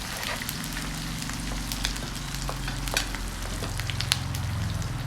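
Squid fries in hot oil in a pan, a close, steady sizzling crackle with scattered sharp pops and no talking.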